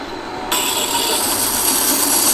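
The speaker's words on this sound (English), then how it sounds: "I'm trying to get it so that it grinds right up these sides of the chisel as well" A spindle gouge chisel is ground on a sharpening stone: a steady, loud, rasping hiss kicks in after a brief quieter moment and continues unbroken, with no voices.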